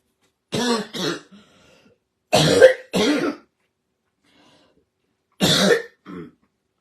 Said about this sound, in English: This stupid cough, it just like chokes you